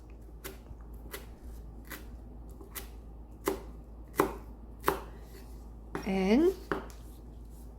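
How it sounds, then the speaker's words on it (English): A knife chops cilantro on a cutting board in a slow series of distinct close thumps, roughly one per second, with a brief spoken word near the end. "And now we are going to chop cilantros"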